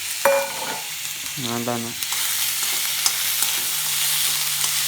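Moth beans (matki) with turmeric being sautéed and stirred in a pan, giving a soft steady sizzle with scraping stirs, close and fairly quiet; a brief hum and a short spoken phrase occur early.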